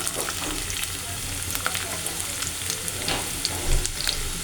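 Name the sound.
stirring onions frying in a pan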